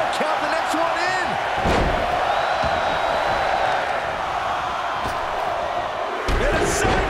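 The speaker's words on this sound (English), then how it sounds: "Listen to this crowd count the next one in!" A wrestling arena crowd in WWE 2K24 chants and roars steadily throughout, with a loud slam partway in. A commentator talks over the crowd.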